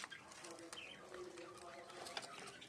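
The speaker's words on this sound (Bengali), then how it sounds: "সবুজ পায়রা" Pigeons coo softly and faintly in an evening feeding setting with Madrasi (Giribaz) pigeons, including a green pigeon. Low murmuring coos and a few chirps sit under a steady background hum.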